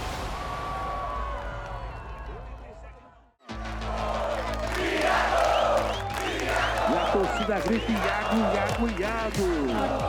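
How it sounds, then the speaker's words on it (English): A beach crowd at Saquarema chants and cheers for Brazilian surfer Italo; a quieter wash of noise gives way after a brief dropout to loud, dense crowd roar with whoops, under a speaking voice. "The beach crowd here at Saquarema is chanting for a Brazilian champion."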